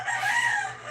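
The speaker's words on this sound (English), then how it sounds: "if you can hear roosters" A rooster crows in the Philippine countryside, one drawn-out cock-a-doodle-doo heard at moderate distance over a low background hum.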